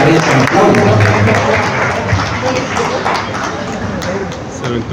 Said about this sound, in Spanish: les pido que demos un fuerte aplauso, por favor